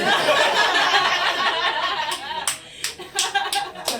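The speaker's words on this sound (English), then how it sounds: "See that Pakistani lady is clapping" Comedy show crowd laughing loudly, then a few sharp claps from a single audience member ring out in an uneven rhythm as the laughter dies down.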